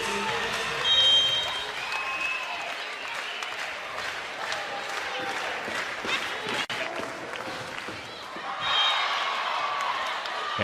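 Volleyball crowd in an arena applauding and cheering after a Louisville point, a sustained wash of clapping that swells at the start and near the end, with a commentator talking over it.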